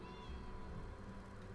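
A cat named Star in The Elder Scrolls Online gives a single faint, drawn-out meow over a steady bed of game ambience.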